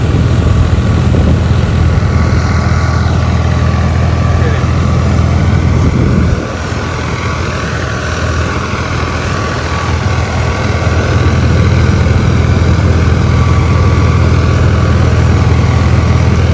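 A Sonalika or New Holland tractor engine runs loud and steady nearby, a constant low droning hum with a slight dip partway through.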